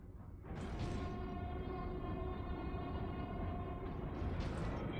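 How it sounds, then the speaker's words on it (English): Heavy running footsteps of Titus, a Space Marine in Warhammer 40k: Space Marine, make a steady, loud, rumbling mechanical roar with dense low thumping, sustained throughout after a brief quiet start. "Titus running sounds like a freight train running on two legs."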